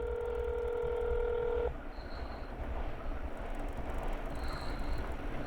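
A phone rings in a song recording. A steady electronic tone holds for under two seconds, then short beeps sound faintly over background noise.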